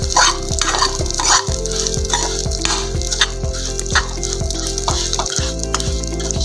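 Ghee khurchan for barfi roasting on high flame, a loud continuous sizzle broken by regular rhythmic scraping strokes of a ladle against the pan, close up, with no voices.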